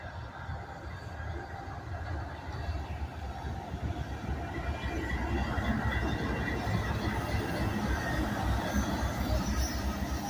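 Rumbling switcher locomotive pulling grain cars rolls past with steady clatter of wheels and occasional metallic squeal, growing slightly louder over time, no voices.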